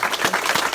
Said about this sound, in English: can we give him a round of applause one more time